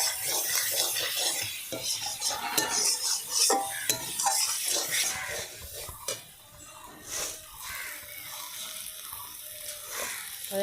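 Potatoes and a splash of water go into a pan of fried spices, bringing clinking utensils against metal, scraping stirs and a soft sizzle in close, busy bursts that settle into quieter bubbling.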